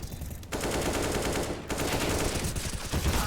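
Rapid Counter-Strike gunfire from a professional esports match fills the space as dense, continuous automatic bursts, loud and close, with a brief break before it resumes.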